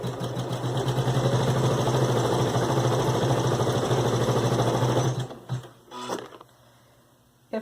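An Elna 860 embroidery machine stitching, a fast, even mechanical whir with rapid needle patter for about five seconds, then stopping with a few clicks and clunks.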